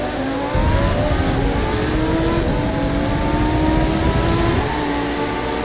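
A hypercar engine in The Crew 2 racing game holds a loud, sustained rev that climbs steadily in pitch, droning alone without any talk.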